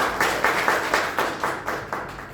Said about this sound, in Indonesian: mohon tepuk tangannya